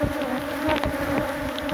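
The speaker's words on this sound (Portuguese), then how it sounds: "Pode jogar as abelhas aqui dentro" Honey bees buzz in a dense, continuous swarm hum as they are transferred into a hive box at an apiary, close and steady with no voices.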